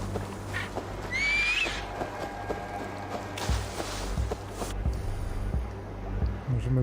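A horse in the video game Assassin's Creed gives a rising whinny early on, followed by scattered hoof clops and game ambience with a steady low hum.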